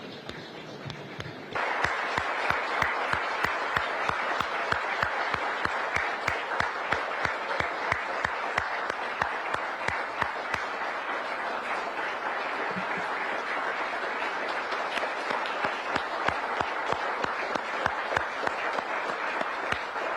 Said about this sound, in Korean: 여러분 일어나셔서 큰 박수 부탁드리겠습니다